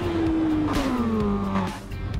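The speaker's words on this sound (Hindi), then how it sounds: "क्या ही साउंड है यार बाइक्स के" A Kawasaki ZX10R motorcycle engine in a bike video game revs loudly with a steadily shifting pitch, a smooth high whine rising and falling as the throttle changes, heard close and alone.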